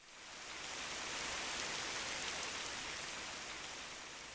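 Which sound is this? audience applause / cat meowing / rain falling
rain falling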